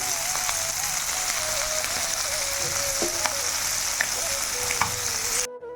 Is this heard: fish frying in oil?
yes